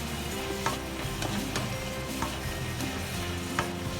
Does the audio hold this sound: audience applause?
no